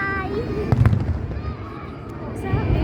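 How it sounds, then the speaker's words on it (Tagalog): Fireworks burst at a seaside pyromusical competition, with sharp booms and crackles at varying distances as people talk and react nearby. "Nakikita nung nasa aeroplano yung fireworks."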